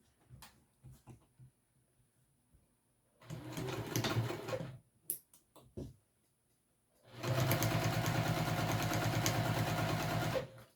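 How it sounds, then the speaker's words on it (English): A sewing machine stitching the long fabric seams of a backpack at a small stitch length: short stop-start bursts, then a sustained close, even mechanical whir for several seconds, with quiet handling noises between runs. "now we will sew this at our seam allowance with our constructive stitch length"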